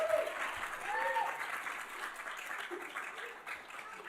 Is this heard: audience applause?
yes